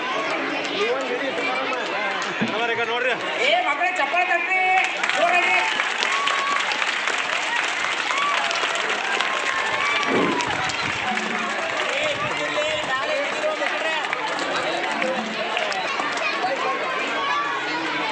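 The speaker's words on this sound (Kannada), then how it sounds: "ಏ ಮಕ್ಕಳೇ ಚಪ್ಪಾಳೆ ತಟ್ರಿ" Children at a primary school function clap in sustained, dense applause, with chatter and voices mixed in throughout.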